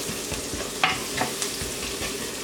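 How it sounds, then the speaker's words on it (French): Beef stock cube frying with onions in a pan for a Congolese red bean stew, giving a steady close sizzle with a few sharp stirring scrapes and clicks. "j'ai mis ici mon cube de bœuf que je fais revenir avec mes oignons"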